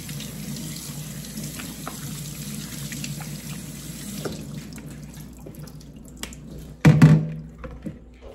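Water runs steadily from a tap into a sink while washed mutton for dum biryani is left to drain, a soft continuous rush that thins out and ends in a few louder splashes and drips.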